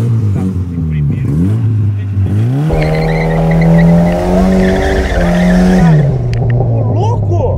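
A Chevette car drifting, its engine revving hard and rising in pitch while the tires squeal and skid, loud and close, with people talking over it.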